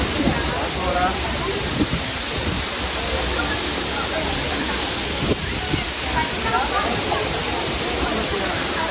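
Irachil Para waterfall in Marayoor, Kerala gives a steady, loud roar of falling water. The broadband rush holds at an even level throughout and masks other sounds nearby.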